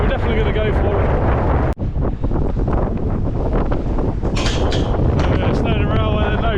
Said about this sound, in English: the wind's picking up, but visibility looks good at the moment.